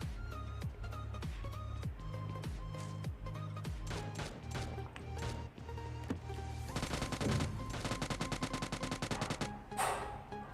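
Gunfire in the PUBG video game: loud rapid shots in repeated bursts, then a long sustained stretch of fast automatic fire near the listener, with no voices over it.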